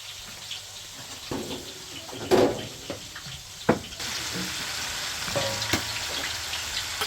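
Shallots fry in a pan in a home kitchen, a soft ongoing sizzle broken by scattered clinks and scraping stirs, with a brief louder rustle near the middle.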